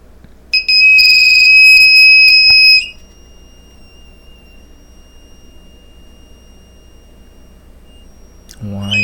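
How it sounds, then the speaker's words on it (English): Electronic beeper on a Sidewinder drone build sounds a loud, steady high-pitched tone for about two seconds, then drops to a faint lingering whine, with a short rising chirp at the very end. "And beeper is gonna be a bit loud."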